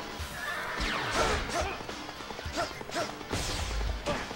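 A horse neighs in the video game Dynasty Warriors 4: several shrill, wavering whinnies rise and fall over hoof clatter and sharp battle crashes, moderately loud and close.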